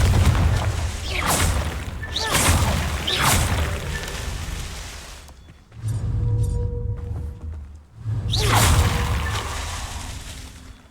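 Confringo blasting spell explosions in Hogwarts Legacy: three loud whooshing booms separated by a quieter stretch with tonal chimes, each blast swelling then fading, no voices.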